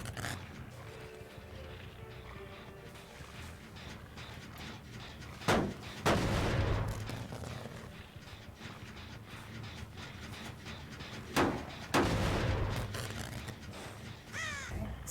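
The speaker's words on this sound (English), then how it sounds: "Someone blew a gen, that's good to know." A generator blows in the Dead by Daylight video game, heard as two sharp explosive bangs about six seconds apart, each followed by a crackling burst, over a low ambient game backdrop.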